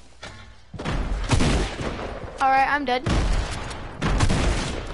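Gunfire in a multiplayer video game, with bursts of rapid shots and booming impacts in quick clusters, loud and close. Players talk over the shots.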